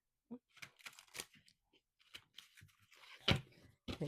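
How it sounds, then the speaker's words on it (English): Tarot cards being shuffled by hand in a bridge shuffle, with soft papery riffles, flicks and taps coming in short bursts, faint and close against quiet. "You can do the bridge shuffle easily with this."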